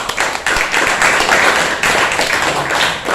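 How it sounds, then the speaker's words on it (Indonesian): Schoolchildren in a junior high classroom clap together at the end of a lesson, a loud close burst of quick, uneven hand claps with a few sharp taps and thuds mixed in. "tepuk tangan buat kita semua"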